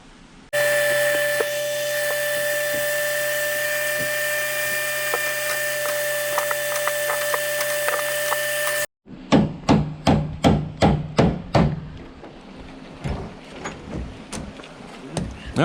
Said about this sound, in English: You winch her out.